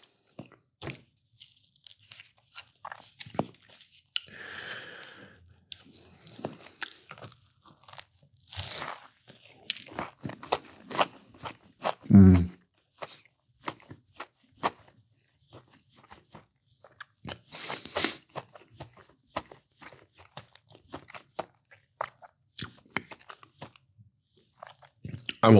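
Someone bites and chews a sausage breakfast bagel with a crunchy hash brown tucked inside, close to the mic, with repeated crisp crunches and wet chewing in irregular bursts across a long stretch, with no talking.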